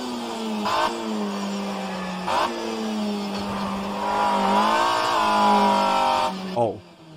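A 1990s BTCC touring car in the rFactor 2 racing sim, lapping Oulton Park: a steady, loud engine drone rising and falling through gear changes, with brief upshift breaks, and a voice talking over it.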